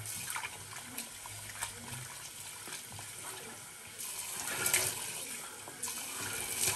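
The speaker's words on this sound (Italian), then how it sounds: "E a sciacquarci il viso con acqua calda appena arriva l'acqua calda." A bathroom tap runs steadily while hot water is awaited for rinsing the face before shaving, a close continuous stream and splash that swells louder toward the end, with no voices.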